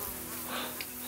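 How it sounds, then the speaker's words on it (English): Mosquitoes buzz on the Pacific Crest Trail, a close, continuous whining drone filling the whole brief moment. "the mosquitoes are eating us alive"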